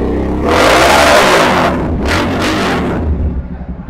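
Yamaha R3 replica motorcycle fitted with an aftermarket exhaust, revving up loudly close by in a strong sustained burst, then dropping back with a couple of quick throttle blips as it settles.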